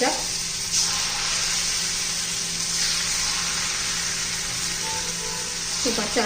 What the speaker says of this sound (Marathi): चार असे सोडून घ्यायचे आणि छान असे तळून घ्यायचे.